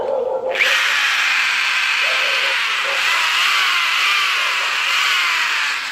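An electric drill running off a PV3000 MPK 1 kW solar inverter kicks in after a brief moment and holds a loud, steady, high motor whine with no talking.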